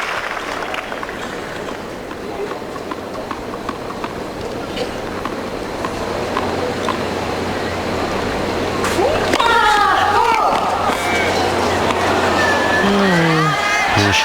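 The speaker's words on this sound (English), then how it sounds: "the crowd are baying for it" Tennis crowd at a 2006 New Haven women's semifinal clamouring loudly for a line-call challenge, a sustained broad roar of voices swelling toward the end, with a commentator talking over it.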